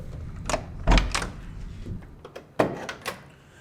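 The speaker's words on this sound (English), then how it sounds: "And the function of the doors are very crisp, the way they open and close." A 1969 Chevrolet Bel Air's steel car door is opened and shut, giving a few solid thunks and latch clicks with a heavy hit near the start and another later, close by, with no talking.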